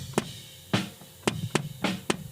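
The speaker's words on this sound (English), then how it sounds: "So the kick in is an RE20." Kick drum captured by an RE20 microphone inside the drum, five separate thumps at uneven spacing over a low steady hiss, with no other instruments.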